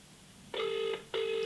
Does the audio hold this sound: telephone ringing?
yes